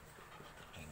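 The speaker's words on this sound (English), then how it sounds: "My dog trying to be annoying and friendly and cute." A pet dog pants close by in a home kitchen, a quiet, steady, breathy rhythm of short breaths with no voices.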